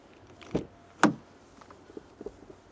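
An electric Ford Puma's car door unlatches with a short click, followed by a louder thunk as it swings open, then faint rattles and small handling noises.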